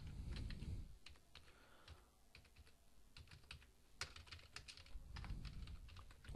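A computer keyboard is typed on in quick irregular bursts of clicking keys, close and fairly faint, with low thumps of handling at the start and end.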